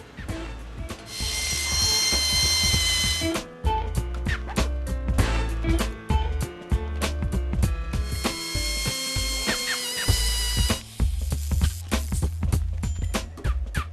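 A drill bores a counterbore and then a 1/4-inch hole in metal, making a loud, close grinding whine with ringing tonal overtones that stops briefly and starts again.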